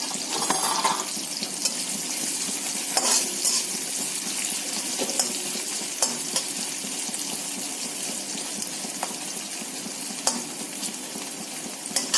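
Onions sizzle steadily in hot oil for a Telugu fish curry, a continuous loud crackle with a few stirring clatters and scrapes throughout.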